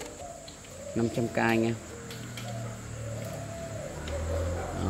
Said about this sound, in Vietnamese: Ưu điểm của con chim này rất là thuần và giọng rất là đẹp